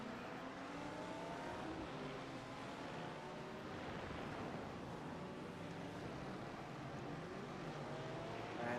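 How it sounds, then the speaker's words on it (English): Ferrari race car in a racing video game accelerating hard and spinning its tires: a steady, smooth engine roar with a rising pitch runs the whole time at moderate volume, with no voices. "Saw that machine caught a little bit of air as he was trying to accelerate, just spun the tires."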